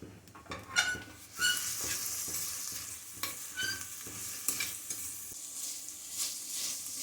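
Onions and ginger garlic paste sautéing in a pan for paneer pulao: gentle continuous sizzle under repeated spatula scrapes and stirring strokes, quiet and close, without talking.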